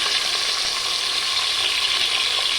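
Whole small onions sauté in a pan, an even, close frying sizzle with faint crackle, steady and unbroken throughout.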